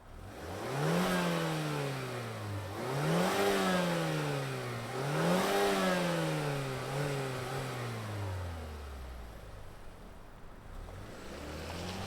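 Turbocharged engine of a 2024 Mazda CX-5 Turbo compact SUV revving, with repeated rising and falling sweeps as the throttle is blipped several times, then the revs settle lower. The sound is steady and fairly close, and no one talks.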